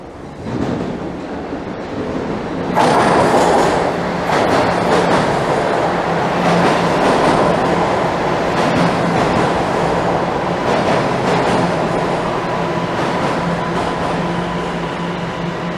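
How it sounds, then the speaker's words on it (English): A Toronto Line 1 subway train pulls into a station with a rising roar, then a steady loud rumble of wheels and motors with faint rhythmic clacks that continues at close range without easing. "I want this southbound train that'll head down to Union and turn around and become northbound"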